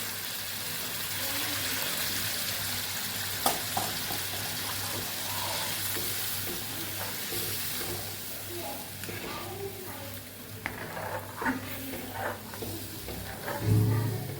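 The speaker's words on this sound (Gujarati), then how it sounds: "જે પ્રમાણે આપણે ગ્રેવી જોતી હોય એ પ્રમાણે અહીંયા પાણી ઉમેરવાનું છે તો આશરે આપણે એક કપ જેટલું અહીંયા પાણી ઉમેરશું" About a cup of water poured into simmering cashew gravy in a pan, giving a steady sizzling hiss with soft stirring and splashing throughout.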